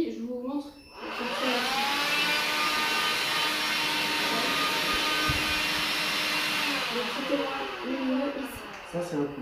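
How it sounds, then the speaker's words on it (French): A stick vacuum cleaner runs close by with a steady, loud motor whine, rising at the start and holding constant, with a voice talking over it. "Voilà donc l'aspirateur balai"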